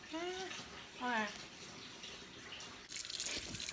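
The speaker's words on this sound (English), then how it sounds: "I'm just washing it so that some of the colors will fall off" Running water splashes as a tie-dyed sweatshirt is rinsed under a tap, a steady wash with drips and a louder gush near the end, while a person talks over it.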